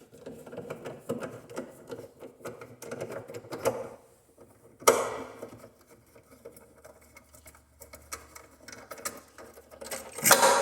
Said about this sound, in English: So let's just grab a screwdriver. It's already got a flathead in it. Let's see if we can get these bolts out of here.